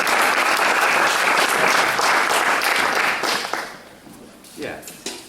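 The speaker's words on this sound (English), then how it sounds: "Give that an applause." An audience bursts into loud, dense applause that holds steady for about three seconds, then fades into scattered claps and a few voices.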